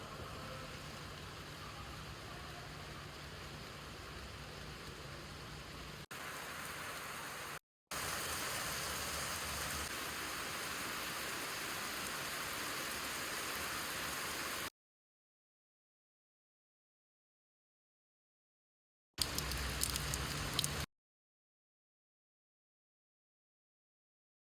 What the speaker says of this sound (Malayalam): ഇപ്പൊ ഒരു ചെറിയ മഴയും കൂടെ ആയപ്പോൾ തന്നെ ഭയങ്കര രസമുണ്ട് കേട്ടോ